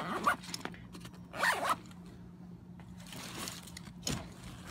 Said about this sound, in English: So if I pull this zipper, and by the way, these are YKK zippers, but they're not the smoothest ones available.